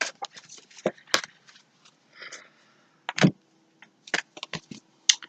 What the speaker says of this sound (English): so I like to kind of shuffle them a few extra times because they're thick